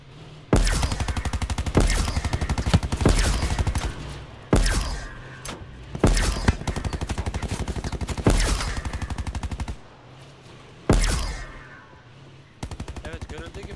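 Automatic gunfire in Call of Duty Black Ops 4, loud repeated bursts of rapid shots with short pauses between them, each burst trailing off into echo.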